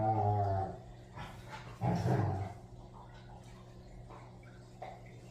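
Puppies growling and squabbling over a rock brought in from outside, with a loud burst of snarling at the start, another near the two-second mark, then softer grumbles and whines close by.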